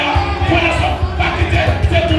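A church congregation clapping in steady rhythm during a lively service, the claps dense and close, mixed with a noisy crowd of voices singing and calling out.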